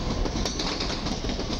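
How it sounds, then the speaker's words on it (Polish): A Newag Impuls commuter train on Warsaw's S1 suburban line rolls along with steady rail rumble and a faint rhythmic clatter of wheels, loud and close, with no voices. "Mamy także Impulsa Newaga na linii S1 do Pruszkowa Szybkiej Kolei Miejskiej"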